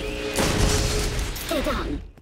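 A Borderlands firefight erupts with loud, dense gunfire and booming impacts, followed by a shouted voice near the end.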